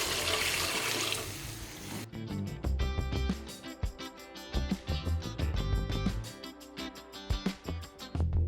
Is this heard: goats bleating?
no